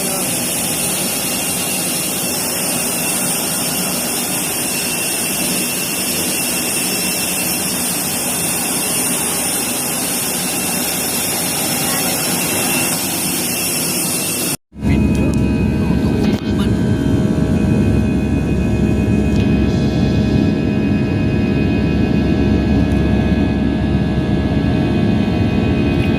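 Jet engine roar inside an airplane cabin, a loud, constant broadband drone that cuts abruptly partway through to a slightly different, equally steady engine hum.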